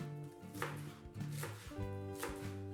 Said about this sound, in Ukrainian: І ще нарізаємо мариновані огірки і зелену цибулю.